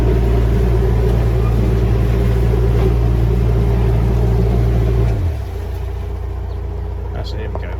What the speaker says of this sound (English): Just get a bit of revs.